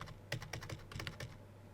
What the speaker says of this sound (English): I type in the amount